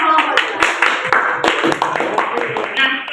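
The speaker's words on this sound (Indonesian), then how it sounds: "Kita beri tepuk tangan dulu untuk kelompok" A school classroom of students claps for a presenting group, uneven sharp hand claps close by with chatter and voices mixed in.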